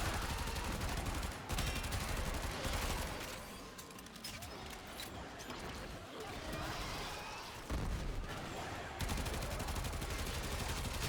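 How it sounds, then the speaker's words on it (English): Rapid automatic gun shooting in the Warframe video game, a loud continuous stream of shots with a few short pauses, and talk over the gunfire. "I feel like I never use, like a rapid-fire gun outside of pistols"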